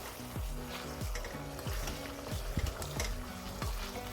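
Pork binagoongan is stirred in a cooking pan over a constant sizzling fry, the spoon scraping in regular strokes roughly every half second, close and clear with no talk.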